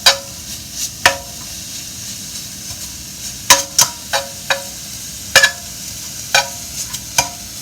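Taco meat for a layered taco salad is broken up and stirred in a frying pan, the spatula giving a dozen or so sharp clacks and scrapes at irregular intervals over a steady low sizzle, close and without talk.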